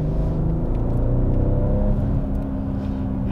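A BMW M440i Coupé's six-cylinder engine pulls steadily in third gear just under 3000 rpm, a smooth continuous hum and drone from inside the car while driving, with no talking.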